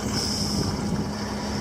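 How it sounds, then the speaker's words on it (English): A sailboat's motor idles at 1200 RPM while under way, giving a steady low drone with a faint high whine over it. Wind rushes across the microphone and no one speaks. "We're idling at 1200 RPM"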